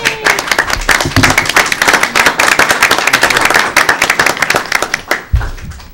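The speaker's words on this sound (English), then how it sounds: "Should be applause." Meeting audience applauds together at a town selectmen session, a dense, steady patter of many hands clapping that runs for several seconds before stopping abruptly near the end.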